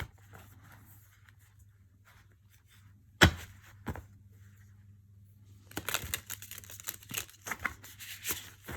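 A stiff tarot card deck is riffle shuffled, giving one sharp snap followed by a longer burst of fluttering, crackling card riffles, close and fairly quiet.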